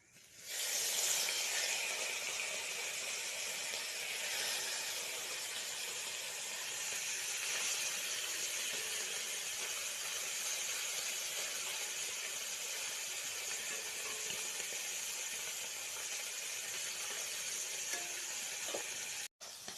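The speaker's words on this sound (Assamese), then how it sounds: "এতিয়া ইয়াত মাছখিনি ফ্ৰাই কৰি ল'ম, সৰু মাছখিনি।" Small fish fry in hot oil in a village kitchen with a constant, dense hiss and crackle, close and unbroken for the whole stretch, ending abruptly.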